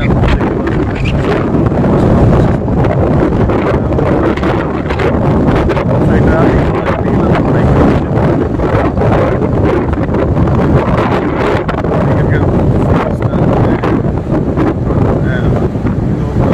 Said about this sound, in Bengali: সাধারণত এই সমুদ্রের বাতাস থেকে